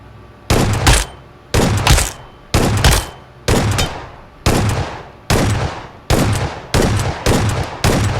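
A shotgun fires in a video game, about nine loud, close blasts at a steady pace under a second apart. Each sharp report is followed by a short decaying tail.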